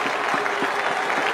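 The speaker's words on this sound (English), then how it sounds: "Take a bow. Great applause." A cricket crowd in Bangladesh applauds a batsman's century against Australia in 2005, a continuous wash of distant clapping and crowd noise across the stadium.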